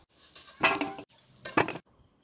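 Fried potatoes lifted out of a pan of oil: two short bursts of metal utensil scraping and clinking against the pan, close by, separated by a brief pause, then quiet.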